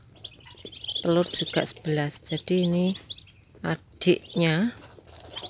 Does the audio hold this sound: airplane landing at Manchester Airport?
no